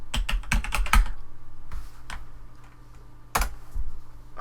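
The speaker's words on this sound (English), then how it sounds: "just type in workflow" Typing on a computer keyboard, a quick burst of close keystrokes at the start, then a few scattered taps and one more short run of keys.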